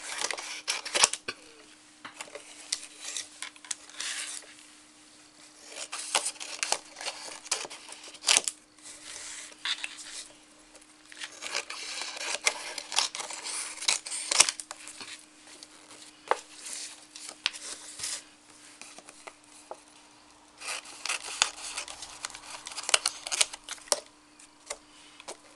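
Scissors snip paper around a glued cardboard piece while building a small Christmas chalet craft, in quiet clusters of crisp close cuts separated by short pauses, with a faint steady hum underneath.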